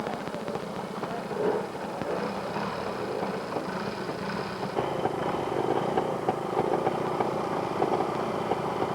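A two-stroke trials motorcycle engine idles and revs steadily at a Scottish pre-65 trials event, with a continuous mid-pitched buzzing drone that rises slightly toward the end, heard outdoors at moderate distance.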